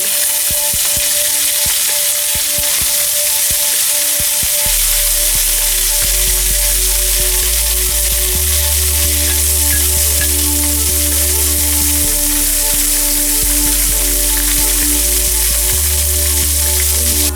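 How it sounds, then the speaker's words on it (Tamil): Urad dal and mustard seeds splutter and crackle in hot oil while making aval upma, a loud, dense, continuous sizzle close by, with a steady low hum underneath and no speech. "உளுத்தம்பருப்பும் கடுகும் பொரிஞ்சு வந்துருக்கு"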